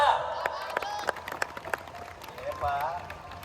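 Scattered audience clapping at a speech event, sparse individual claps in an uneven rhythm with a voice talking over them and a swell of crowd noise toward the end.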